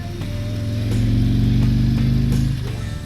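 A 2021 Harley-Davidson Tri Glide Ultra trike engine rumbles loud and close while riding, swelling as the throttle opens and then easing back, with no talk over it.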